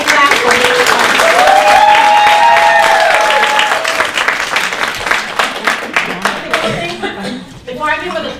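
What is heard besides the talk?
audience applause, hand clapping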